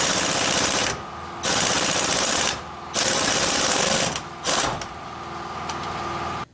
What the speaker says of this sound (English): putting that big socket on and using the impact